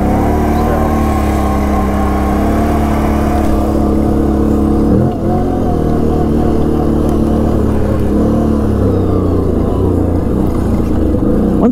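Can-Am Renegade 800 ATV engine buzzing steadily on a test drive, loud and close, with rising and falling revs and a short dip midway as the throttle shifts.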